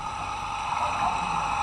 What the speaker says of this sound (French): ça c'est le bruit d'un jet ski